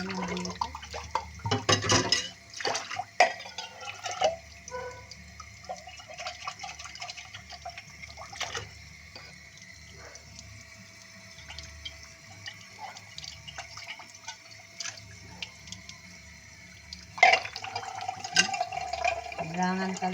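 Water running and dripping from a broken faucet into a sink, with irregular splashes and drips at moderate volume, with clattering and occasional talk.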